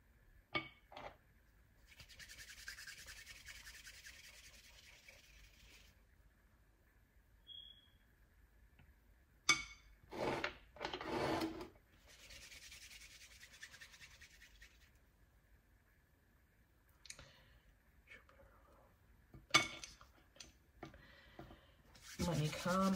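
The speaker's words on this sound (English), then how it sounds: "Rub it into the candle." Jupiter oil being rubbed into a candle by hand gives soft, close scratchy rubbing strokes in irregular bursts, with pauses of near-quiet between them.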